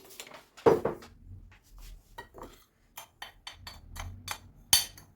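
A utensil clinks and scrapes against a bowl in a few irregular strokes, stirring sugar and starch, with soft rustling between, close and moderately quiet.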